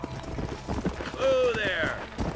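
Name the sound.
horse galloping in Red Dead Redemption video game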